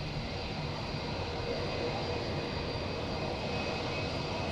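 Airliner at TOGA thrust during a go-around at windy Madeira Airport, a steady loud broadband jet roar that fills the whole stretch without letting up.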